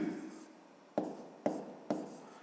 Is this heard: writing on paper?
yes